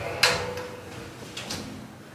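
A small sliding glass shower door in a Hampton by Hilton hotel bathroom in Midtown Atlanta gives one sharp, close clack as it moves, followed by a softer second knock a moment later in a quiet room.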